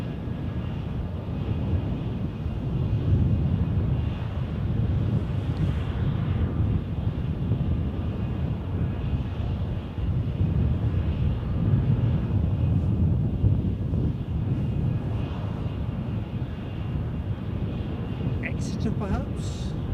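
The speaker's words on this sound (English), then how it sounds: "Let's wave this British Airways departure off first." A British Airways jet airliner departing Edinburgh roars as a steady, broad low rumble with wind noise, sustained throughout while a person speaks intermittently.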